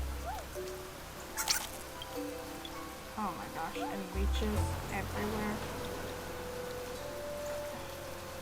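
Steady rain hisses in the video game Niche, a soft constant wash under a player's voice talking throughout, with a deeper rumble joining partway through.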